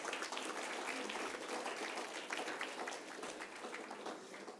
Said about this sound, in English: A round of applause for our glamorous assistants bringing our certificates